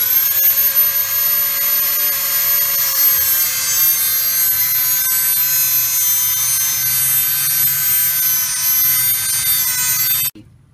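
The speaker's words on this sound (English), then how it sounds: "So now we're taking a Dremel tool and cutting that off." A Dremel tool cuts through a bearing race welded onto the spindle of a 1980 Jeep CJ7 wheel hub, a loud, steady, high-pitched grinding whine that runs for about ten seconds and then stops abruptly.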